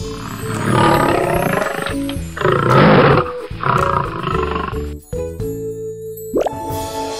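A lion roars loudly in several heavy, rumbling bursts, followed by a brief pause and a sharp, bright sound near the end.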